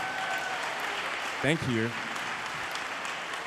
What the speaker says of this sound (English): Give a round of applause to your parents.